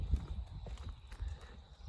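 Horse hooves clip-clopping nearby in a farm pen, a few uneven soft thuds on the ground mixed with shuffling, fairly quiet.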